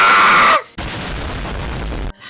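A voice imitates a frustrated scream, a loud, shrill shriek lasting about half a second, followed by a harsh, noisy burst that sounds close to the microphone.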